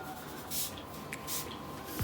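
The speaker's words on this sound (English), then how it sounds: "we're going to go kind of aim it at the scalp and spray everywhere" Sea salt texture spray misted onto hair at the scalp, heard as a few short soft hissing bursts spaced through the moment, fairly close and quiet against a low background hum.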